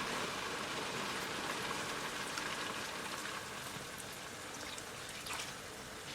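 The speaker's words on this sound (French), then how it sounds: "notre sauce est en train de mijoter tranquillement" Bean sauce for madesu with smoked fish simmering gently on low heat, a steady soft bubbling hiss that runs evenly throughout with no voices.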